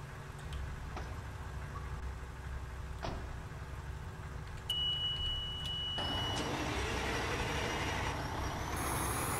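Fire truck engine droning steadily in the EmergeNYC game, a low continuous rumble with a few brief clicks, then a louder, brighter engine tone and a high tone near the end.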